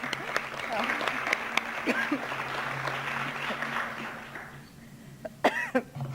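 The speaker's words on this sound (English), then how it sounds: "I want to give them my own special round of applause." Audience applause at a 1998 law breakfast gathering on court reform, a moderate burst of clapping with a cough or two that tapers off after about four seconds, leaving a quieter room.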